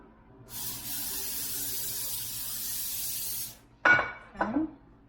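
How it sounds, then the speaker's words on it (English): Cooking spray hisses onto a Pyrex glass dish in a kitchen in one steady three-second burst, followed by two short clinks of glass. "Just gonna spray my Pyrex dish here."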